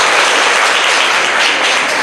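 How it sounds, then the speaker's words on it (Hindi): Students at a Bihar government school event break into sustained, loud applause, a dense wash of clapping filling the room throughout. "चलिए ताली बजाइए आप लोगों ने"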